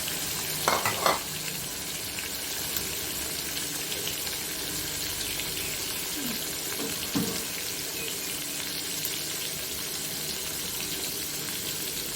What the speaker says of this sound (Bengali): এখন আমরা মাছগুলোকে ভেজে নেব।